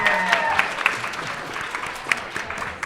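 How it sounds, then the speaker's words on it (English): A small audience at a live podcast taping claps steadily, a light scattered round of applause with a few sharper claps standing out. "Give you all a round of applause."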